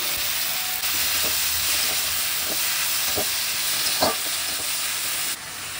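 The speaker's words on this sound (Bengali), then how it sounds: "এই তেলে আমি পেঁয়াজগুলো দিয়ে দিচ্ছি হলুদ গুঁড়ো, দিয়ে দিলাম নুন" Onions fry in hot oil with turmeric powder and salt for a shrimp biryani, a loud, steady close sizzle broken by several soft scraping stirs.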